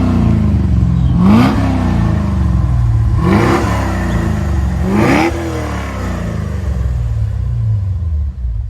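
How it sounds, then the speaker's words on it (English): A Holden Calais VE engine revs three times in quick succession from behind the car, each rise and fall swelling over a steady loud idle rumble, with no one speaking. "I'm just going to take you around to the rear of the car so you can hear the engine."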